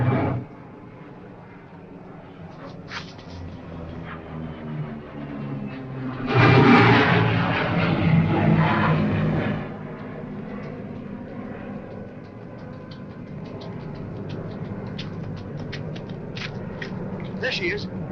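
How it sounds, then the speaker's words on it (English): A small propeller plane's engine drones, swells as it passes close overhead, then fades back to a distant hum. "That's a pickup plane."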